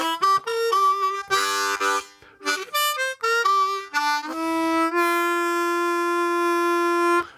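Bluesy harmonica ending phrase of a draw, a blow and a whole-step bent draw, played as a string of short punchy notes and chords before a long held final note that rings out loud and alone.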